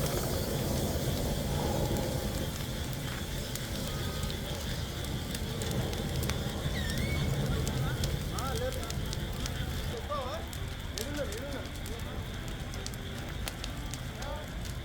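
Large fire from a private travels bus and container lorry collision on the Kurnool–Chittoor highway near Nandyal, crackling and roaring steadily throughout, with distant voices and occasional whistle-like tones in the background.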